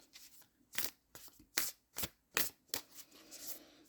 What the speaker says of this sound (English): I'm gonna get a couple Moonology cards.